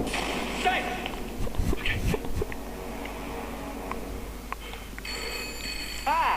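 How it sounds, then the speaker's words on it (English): A telephone rings in a Doctor Who episode, The Almost People, its bell coming through toward the end under steady talking voices and scattered bumps and footsteps. "That'll be the phone. Somebody get the phone."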